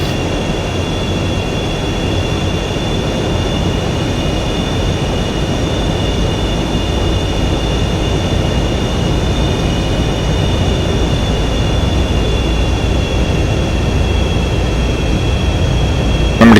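F/A-18E Super Hornet jet taxiing toward the runway at Nellis, a loud continuous engine roar with a steady high whine on top, unbroken and close throughout, with no talking.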